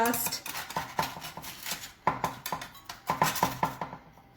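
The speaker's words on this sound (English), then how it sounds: "Now I'm gonna get a spatula." A spatula scrapes and clinks against a baking pan while lifting crispy baked buffalo cauliflower bites, giving a run of close, sharp metallic taps and scrapes in uneven bursts.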